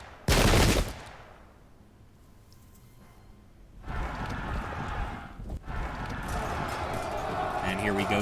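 Musket gunfire in a video game battle at Plassey in 1757, with one loud close volley at the start and then a dense, continuous crackle of distant rifle fire and battle noise lasting several seconds.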